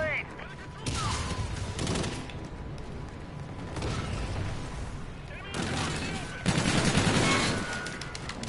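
Repeated bursts of gunfire in a video game from the NV4 Black Cat variant rifle, crackling volleys and scattered shots at mid distance, with voices talking over parts of the action.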